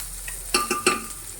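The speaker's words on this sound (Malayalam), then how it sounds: "ഇനി അപ്പോൾ ഇതിലേക്ക് നമുക്ക് നമ്മൾ ചതച്ച് വെച്ചിരുന്ന ഇഞ്ചി, നമ്മുടെ ചെറിയ ഉള്ളി, അതുപോലെ തന്നെ വറ്റൽമുളക് ചേർത്തിട്ട് നന്നായിട്ട് ഇളക്കാം." Crushed ginger, shallots and dried chillies are stirred into hot oil with mustard seeds, a soft sizzle under three quick scraping strokes of a spoon against the pan, close and brief.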